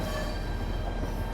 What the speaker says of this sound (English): I'm just allowing the train to really coast down